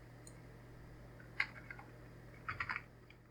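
A few keystrokes on a computer keyboard type a search query, in a soft isolated click and then a quick cluster of four or five taps about a second later, over a faint low hum.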